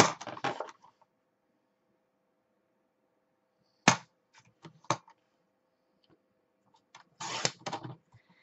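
Paper scored along measured lines at half-inch, four-inch and seven-and-a-half-inch marks, heard as short close scraping strokes and clicks separated by long near-silent gaps, with a longer rasp near the end.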